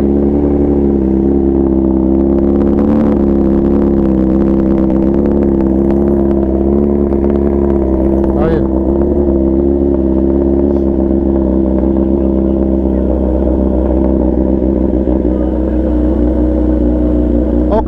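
A loud, steady scooter engine drones close by, with rattling undertones and a few rising revs partway through.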